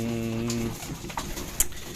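A racing pigeon coos with low, humming tones at the start, followed by a few scattered chirps and small rustles nearby.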